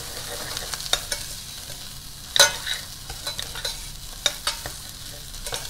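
Shrimp shells fry in a pan for Tom Yum Goong, a soft steady sizzle broken by repeated scraping clicks of a utensil stirring against the pan bottom, close and with no talking.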